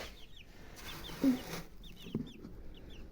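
Farm chickens cluck and call in a few short, faint bursts outdoors at a poultry and livestock yard, with quiet background noise between them.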